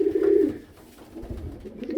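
Pigeons coo in a loft, a low throaty coo standing out near the start, with softer cooing returning toward the end at moderate closeness.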